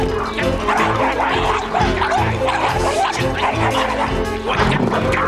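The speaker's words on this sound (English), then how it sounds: "Get off, stupid dog." A dog barks and yelps repeatedly, close and loud, in a steady run of yips and whimpers with little pause.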